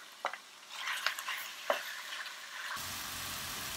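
Ground meat browning in a pan with onions and garlic, a low sizzle broken by a few sharp stirring scrapes, then a steadier frying hiss.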